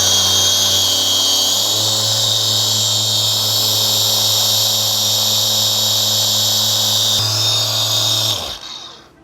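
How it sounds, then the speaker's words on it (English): Ryobi polisher with a correction pad buffing car paint, a steady close whine with a constant low hum running for several seconds, then cutting off and spinning down at the end. "I'm also using the correction pad on my Ryobi. I will be starting really low on the RPMs and making my way up."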